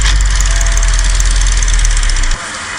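Car engine in the mobile game Car Parking, a loud steady mechanical running roar that drops abruptly near the end, with no voices over it.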